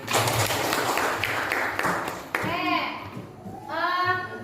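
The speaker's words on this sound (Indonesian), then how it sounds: "Tepuk tangan dulu nak." Pupils in a classroom clap together briefly, loud and close, mixed with children's chatter and followed by a voice speaking.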